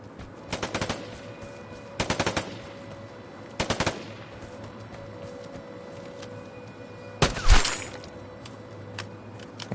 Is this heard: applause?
no